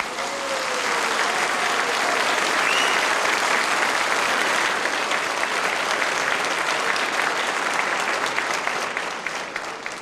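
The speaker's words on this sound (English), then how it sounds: "Don't applaud too much." Warm audience applause greeting a performer introduced on stage at a family klezmer band concert, a full, steady roar of clapping sustained for about ten seconds that thins slightly toward the end, with no voices.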